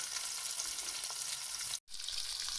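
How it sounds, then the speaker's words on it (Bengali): Four pieces of fish rubbed with salt and turmeric frying in hot oil, a strong, even crackling sizzle that cuts out abruptly for an instant before resuming, with no talk. "সেই তেলে মাছগুলিকে ভালো করে ভেজে নেব"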